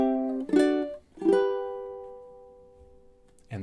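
Ukulele playing a short riff: two plucked chord notes ring out in turn, the second left sustaining and slowly decaying, then a fresh strum begins at the very end.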